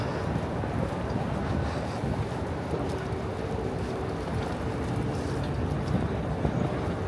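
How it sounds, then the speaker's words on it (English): Strong wind gusting along a New York City street, a steady loud broadband roar buffeting the microphone throughout with faint traffic rumble underneath and no talking. "The wind here is also bad."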